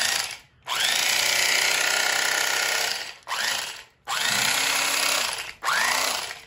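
A Walmart electric fishing fillet knife whirs loudly close up, running in three long bursts separated by brief pauses, with a steady mechanical buzz.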